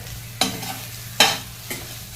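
A spoon stirs chilli sauce into egg rice in a pan: three distinct scraping strokes with a soft background sizzle, close and alone.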